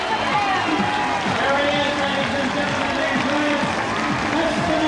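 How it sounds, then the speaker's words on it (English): A crowd roars and cheers at a race finish line on a warm day, a sustained dense wash of noise. A commentator speaks over it. "Listen to the crowd now."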